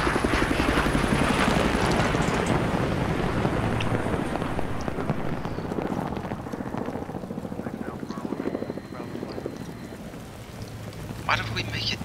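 Osprey tiltrotor aircraft in the Battlefield 3 video game, a loud steady rotor drone amid rain-like hiss and rumble that eases slightly over time, with voices talking over it.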